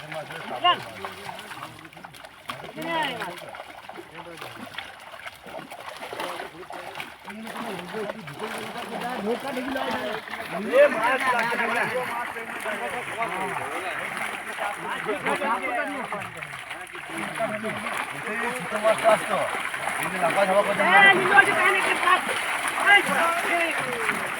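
Fish are released one after another and splash into water, giving scattered wet slaps and sloshing that grow busier toward the end, heard under nearly continuous talking.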